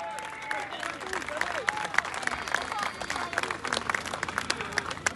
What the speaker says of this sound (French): Mesdames et messieurs, veuillez applaudir Alexandre Achard.